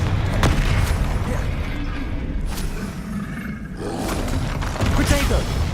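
Confringo explosion spell cast in a Harry Potter video game: a dense, loud roaring blast with booming bursts that continues throughout, with no gaps.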